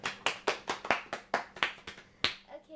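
A small studio audience claps for an interview guest, about a dozen sharp, separate claps in quick succession that thin out toward the end.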